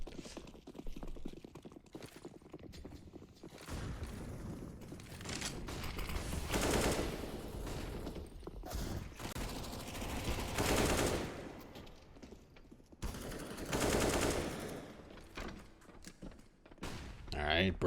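Rifle gunfire in the Counter-Strike video game on the de_nuke map comes in several fairly loud bursts separated by pauses, with a voice talking underneath.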